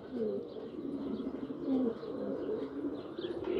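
Young pigeons on a rooftop give soft, repeated cooing calls close by, with a few faint chirps mixed in against a low background hum, and nobody speaks.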